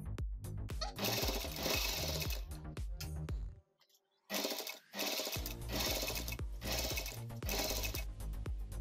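A home sewing machine runs loud, close bursts of stitching to fix elastic onto a fabric face mask, stopping briefly in the middle before starting again.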